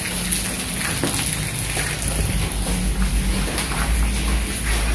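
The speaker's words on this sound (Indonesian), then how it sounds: "Jalan keluar tuh, hujan deras banget tuh." Heavy rain pours down outside an abandoned tax office building in Balaraja, a steady, dense hiss of falling water that continues unbroken throughout.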